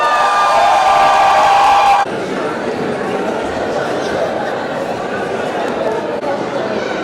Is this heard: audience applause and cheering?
yes